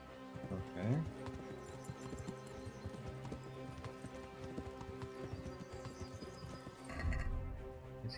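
Horse hooves clip-clopping in the medieval game Kingdom Come: Deliverance, a steady trot of quiet hoof beats with a short whinny near the start and a snort near the end, under soft background ambience.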